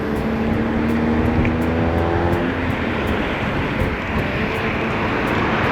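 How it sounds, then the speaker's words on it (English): Steady roar of vehicle traffic on the highway to Hana on Maui's North Shore, cars and engines passing close by in a continuous wash of road and wind noise with no talk. "but a lot of traffic."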